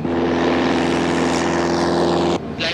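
A propeller airplane in flight drones with a loud, steady engine tone and cabin rumble, continuous and close, cutting off abruptly near the end.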